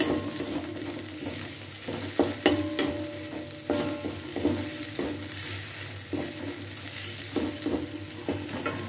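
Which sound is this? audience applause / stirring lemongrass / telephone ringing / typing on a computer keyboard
stirring lemongrass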